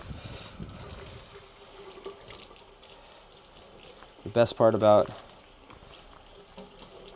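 Cold tap water gushes briefly into a sink as a bird is washed for taxidermy, a loud burst of about a second amid quieter handling sounds while someone talks.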